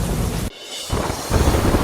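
Heavy monsoon rain pours down in Panchmahal, Gujarat, a loud, steady roar with a deep thunder rumble underneath, briefly dropping away before the downpour surges back.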